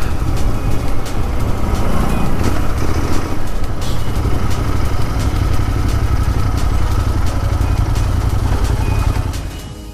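A Royal Enfield Interceptor motorcycle engine drones steadily and loudly while riding over a rough, patchy road, with continuous wind and road rumble throughout before tapering off at the very end.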